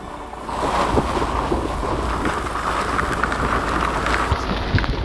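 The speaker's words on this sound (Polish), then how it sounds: "Zobaczcie jakie porywy. Mamy taki downburst mały." Strong gusts from a small downburst in a thunderstorm over the Lublin region in Poland, a loud rushing roar of wind and driving rain that swells after a brief quieter start and stays intense.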